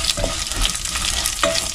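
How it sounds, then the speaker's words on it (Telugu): Toor dal fries in hot oil in a pan while a spoon stirs it, giving a close, continuous sizzle broken by scraping strokes against the pan. "కందిపప్పును కూడా ఫ్రై చేసుకోవాలన్నమాట."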